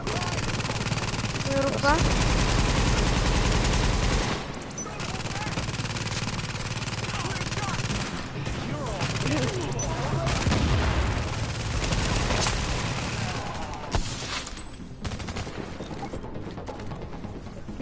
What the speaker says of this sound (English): Ganda ng ano ko yung machine gun